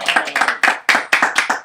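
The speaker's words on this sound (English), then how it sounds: "You can see my audience applaud me" A small audience claps after a speech, with a handful of hands giving sharp, close, uneven claps in a brief burst.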